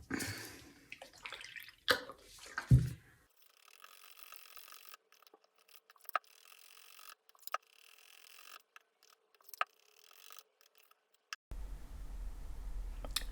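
Water is poured into a fluid art paint mix of black acrylic paint, pouring medium and Liquid-X, a brief splashy pour at the start followed by quiet small clicks and taps of handling.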